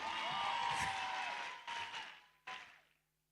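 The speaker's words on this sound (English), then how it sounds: "Please give yourselves a round of applause" Audience applause at a youth event hosted by African Bank, a full burst of clapping that fades quickly, with two brief renewed swells before dying into silence.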